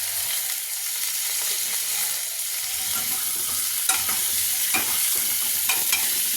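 Food seasoned with black pepper is stirred as it fries in a pan, giving a continuous close hiss with a few sharp scrapes and clatters from the spatula near the end.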